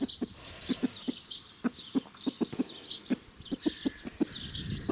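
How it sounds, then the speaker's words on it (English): A rooster clucking in quick, regular low pulses, close by, with faint chirping birds in the background. "Oh, you clever rooster."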